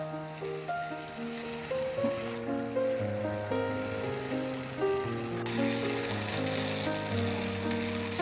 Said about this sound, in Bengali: এখন চুলার আঁচ মিডিয়াম রেখে ভালোভাবে নাড়তে হবে।